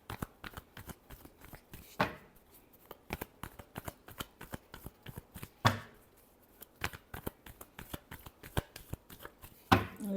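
Tarot cards are shuffled by hand up close, a rapid run of soft flicking clicks broken by three sharper slaps as the deck is squared, with no voices.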